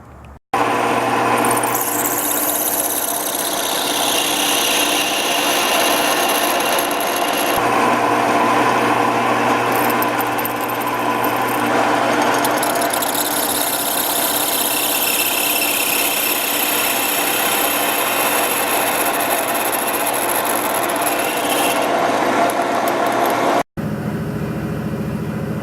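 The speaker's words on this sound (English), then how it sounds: "I'll drill halfway through and then flip it over and drill the other half" A power drill whines steadily through a cast metal gate hinge for over twenty seconds, a continuous high-pitched grinding hum that stops abruptly near the end.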